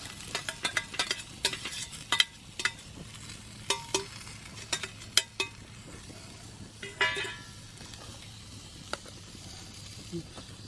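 Food sizzles and fries in hot oil over an outdoor fire in the woods, soft crackling and popping with scattered sharp spits and a spoon scraping, moderately near.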